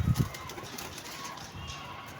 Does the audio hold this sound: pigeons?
yes